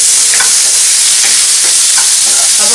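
Onions and tomatoes sizzle loudly in a pan for paneer bhurji, a constant bright frying hiss with a few soft scraping stirs of a spoon, close and alone.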